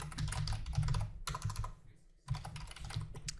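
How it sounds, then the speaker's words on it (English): Rapid typing on a computer keyboard while writing web page markup, a dense run of close key clicks with a short pause midway before the tapping resumes. "If I can type properly"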